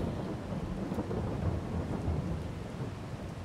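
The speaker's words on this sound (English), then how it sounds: "I like the sound of thunder." Steady rolling thunder rumbles through a rainstorm on wooded land, a deep, continuous roar with rain hiss layered over it and no voices.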